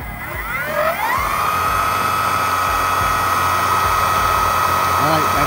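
A DIY electric skateboard motor spins up to full throttle on beginner mode, its whine rising over about a second and then holding a steady, loud high-pitched hum; a voice speaks faintly beneath it.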